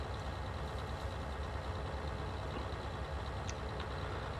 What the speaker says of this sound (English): This is a really smooth tractor to mow on.